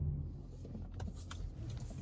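A 2019 Honda CR-V Aero hybrid pulls away with a steady, low interior rumble and faint road and motor hum, with no talking.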